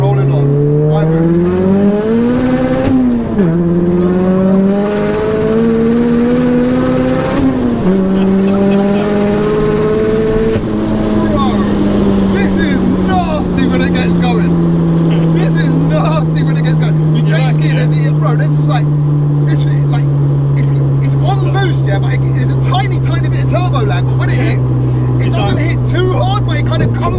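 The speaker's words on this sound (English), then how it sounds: "Second gear, rolling on. High boost." A dry-sumped, 600 bhp Mazda MX-5 accelerates hard in second gear on high boost. The engine note climbs loud and close, breaks at a few shifts or lifts, then settles into a long droning pull, while people talk over it.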